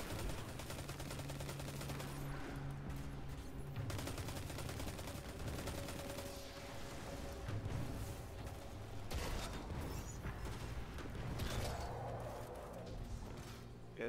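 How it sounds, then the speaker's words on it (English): Shotgun fire in Destiny 2: Beyond Light, heavy blasts mixed with busy gunfire and game music, loud and dense throughout with several sharp bursts standing out. "this is an interesting shotgun"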